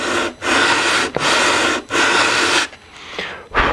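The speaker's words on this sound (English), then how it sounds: "we're going to go ahead and very carefully sand this thing flat and make it nice and smooth" A sanding bar works over a foam model jet with repeated long rasping strokes, four or five of them, each a loud scratchy sweep broken by brief pauses.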